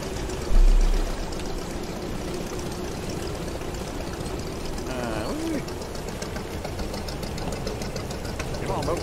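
A fishing boat's engine runs at sea on the Barents Sea, a steady mid-pitched rumble with knocking under spray and water noise. A loud thump sounds early and a voice is faintly heard.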